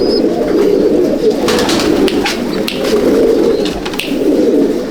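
A pair of Malwai pigeons with their chick, kept in a breeding loft, coo in soft, low rolling murmurs that continue steadily and close by, with no one talking.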